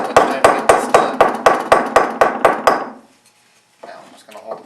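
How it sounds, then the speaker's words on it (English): A hammer pounds on a tail shaft during an NP231 transfer case repair, about ten sharp, evenly spaced metallic blows ringing out loud and close, then a pause before faint shuffling and voices. "Continue pounding."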